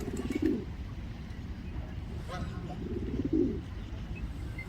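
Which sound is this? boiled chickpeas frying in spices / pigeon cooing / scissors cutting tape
pigeon cooing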